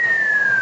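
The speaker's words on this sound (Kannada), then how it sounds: "ಯಾರೋ ಅವ್ನು ವಿಜಿಲ್ ಹೊಡಿತಾ ಇರೋದು" Someone whistles a single clear, steady tone that slowly falls in pitch, brief and prominent against faint background noise.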